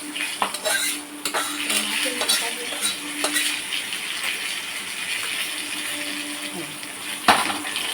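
Metal pots and utensils clatter and scrape in a home kitchen as a cooking pot is set on the stove, with a light sizzle of oil beneath and a sharp clank near the end.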